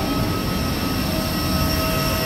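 Airplane at an airport, a loud continuous jet engine roar with a steady high whine, close and unbroken throughout with no talk.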